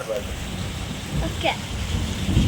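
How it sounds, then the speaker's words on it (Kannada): Heavy first rain of 2025 falls in Sidlaghatta, a steady loud downpour drumming on surfaces throughout, with low rumbles that suggest distant thunder. "ಎರಡು ಸಾವಿರದ ಇಪ್ಪತ್ತೈದರ ಮೊದಲನೇ ಮಳೆ ಭಾರಿ ವರ್ಷಧಾರೆ ಸಿಡ್ಲಘಟ್ಟದಲ್ಲಿ ಭಾರಿ ವರ್ಷಧಾರೆ"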